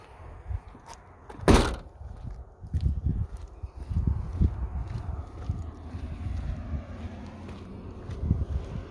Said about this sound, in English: And if we open the door